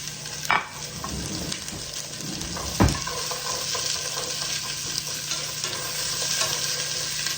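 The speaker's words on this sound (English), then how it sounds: "I'm gonna put in a little bit of sesame oil, and then I'm gonna go ahead and toss in all of these ingredients" Wonton soup ingredients hit hot sesame oil and are tossed in a pan, giving a steady close sizzle with a couple of sharp clatters and stirring scrapes near the start.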